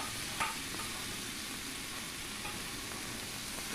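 Fried potatoes and jackfruit sizzle softly with spices in a pan over a medium flame: a quiet, steady, even frying hiss with no voices.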